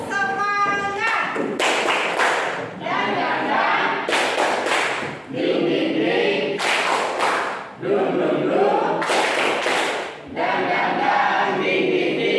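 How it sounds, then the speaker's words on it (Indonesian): A classroom of students performs a rhythmic spirit clap in several loud bursts of patterned clapping and chanted voices, separated by short pauses, close and energetic. "Tepuk semangat."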